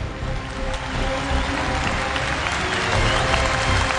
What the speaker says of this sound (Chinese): 也再次把掌声送给带给我们精彩表现，今天在台上献上完美表演的尹素丽。